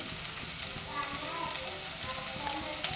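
Small diced potatoes and other ingredients sizzle and fry steadily in a pan for a dried-prawn theeyal curry, a constant close crackle with faint stirring and a quiet voice in the background.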